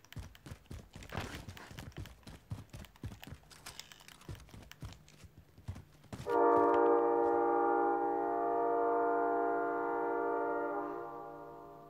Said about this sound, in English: That train is loud.